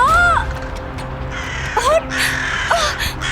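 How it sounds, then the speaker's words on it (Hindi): Several crows caw in harsh, repeated calls amid a tense horror drama setting, the cries rising in clusters at moderate loudness over a low background rumble. "इतने सारे कौवे ये कहां से आ गए?"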